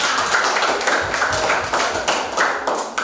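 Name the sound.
classroom students applauding a group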